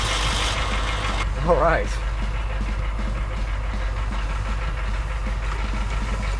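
A street-legal Humvee engine idles with a low, steady rumble throughout, while a voice briefly speaks over it near the start.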